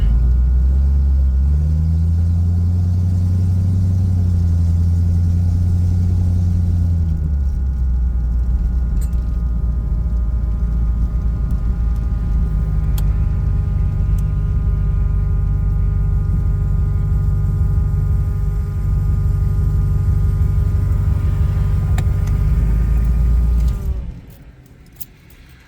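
A car fitted with a Holley Sniper fuel system drones steadily while driving, a low engine rumble with a shifting pitch that fades out near the end.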